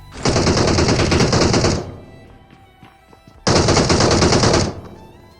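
Automatic-weapon fire in PUBG Mobile (BGMI) comes in two long, loud, sustained bursts separated by a brief lull. Faint thuds and ambient game sounds fill the gap.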